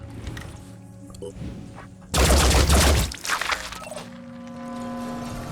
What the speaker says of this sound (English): I don't think it's onto us yet, so you might as well shoot it, Takeshi.